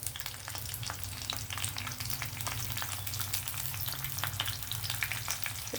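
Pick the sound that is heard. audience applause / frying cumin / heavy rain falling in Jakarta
frying cumin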